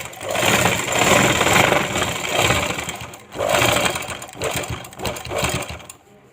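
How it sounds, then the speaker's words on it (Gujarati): Sewing machine stitching elastic into the hem of a lungi-style garment: a loud, close, steady mechanical whir in several runs of a second or two, with short pauses and a brief gap near the middle. "તો આ રીતે આપણે રબર છે તેને રાખીને સિલાઈ લઈ લેશું."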